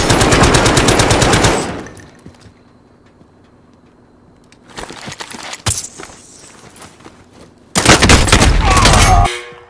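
Machine gun fire rattles in a video game: a long, loud burst opens, then a quieter stretch with scattered shots and footsteps, followed by another sustained burst near the end.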